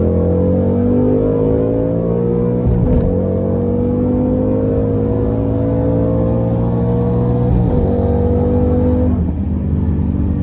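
A 2021 Ford Mustang Mach 1 accelerates hard in a race, its loud engine rising steadily in pitch and dropping briefly at several gear shifts.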